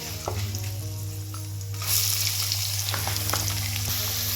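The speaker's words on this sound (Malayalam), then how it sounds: "എല്ലാം നന്നായിട്ടൊന്ന് മൂത്തതിന് ശേഷം സവോള ഇട്ട് കൊടുക്കും" Onions frying in oil in a pan after cashews, almonds and raisins have been roasted, a steady close sizzle that swells louder partway through, with light scraping ticks from stirring.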